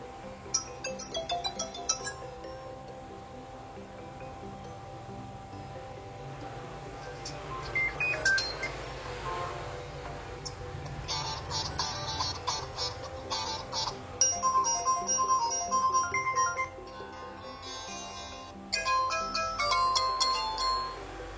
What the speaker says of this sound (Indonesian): sekarang kita cek untuk fungsi dari audio atau suara musiknya